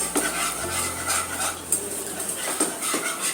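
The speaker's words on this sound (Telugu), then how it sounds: "Two spoons of maida add చేసుకున్న వెంటనే మనం దీన్ని నైస్గా మిక్స్ చేసుకోవాలి." Flour is stirred into melted butter in a pan to start a white sauce: close, continuous scraping and stirring with soft metallic clinks, no talking.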